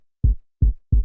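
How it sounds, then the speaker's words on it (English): Three deep, dry bass drum thumps, close and punchy, in a slightly uneven rhythm with silence between hits. "Like for the bass drums, for example."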